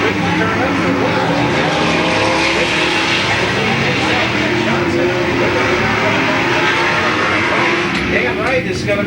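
Race cars roar around an oval speedway during a 1996 Outlaw figure 8 race at Louisville Motor Speedway, engines loud and continuous with tire squeals, while an announcer talks over the noise.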